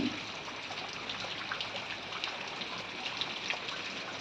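Heavy rain falls outside a house during flooding, a dense, steady patter and wash of water that continues unbroken with scattered louder drops.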